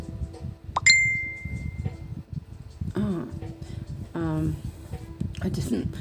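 A phone notification ding sounds once, a short bright chime near the start, with indoor talk running throughout the rest.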